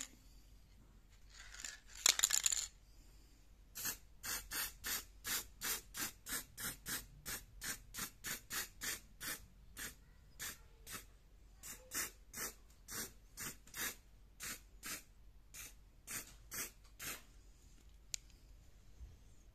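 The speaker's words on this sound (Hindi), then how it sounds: "तो अब मैं इसको स्प्रे करती हूँ" Spray paint hisses onto an empty tin can in a repeated series of short, evenly spaced bursts after a longer opening spray, close and fairly loud in a quiet room.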